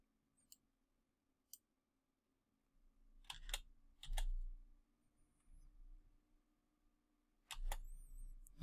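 Several crisp computer keyboard key presses during photo editing in DxO PhotoLab 4, scattered as separate clicks with a cluster near the middle and end, fairly close and quiet against a faint background hum.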